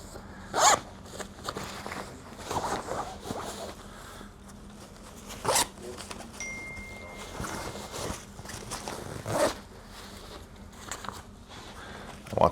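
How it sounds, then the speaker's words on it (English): A zipper on an OD green bag is pulled open and shut in several short, close zips, with soft handling rustles and taps between the strokes and no talking. "I wanted a zipper here instead of a flap"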